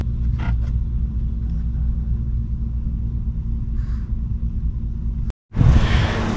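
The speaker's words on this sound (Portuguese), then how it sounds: "Com um pedaço de pau, o caminhão vai passar. Passa o caminhão." A truck rolls by on a road near the Chile border crossing on the way to Ushuaia, a low steady rumble that swells suddenly into a loud close pass at the end, with a few faint bird calls earlier.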